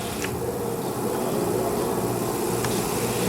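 A car's air conditioning compressor running with the engine idling slightly raised, a steady close whirring drone with a faint buzzing hum throughout and no talk.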